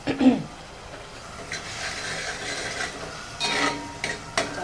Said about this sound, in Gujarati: બધું એકદમ સતડાવા દેવાનું છે પહેલાં